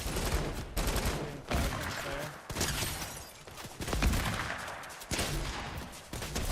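Rockets and gunfire in a shooting video game: dense rapid bursts of shots and explosions fire in repeated loud volleys throughout, with no pauses.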